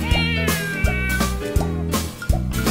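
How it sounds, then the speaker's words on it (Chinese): Cats meowing loudly in an animated Mandarin children's song about Noah's ark, a few cartoonish meows over a bouncy musical backing with steady beat. "老猫小猫也大声叫出"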